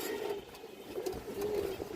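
A female pigeon coos in a low, soft, repeated call, close by and fairly faint against a quiet background.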